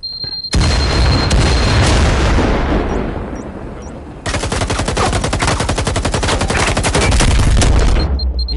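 Loud, sustained bursts of video game gunfire in Firewall, with heavy booming shots that give way to rapid machine-gun fire running for several seconds.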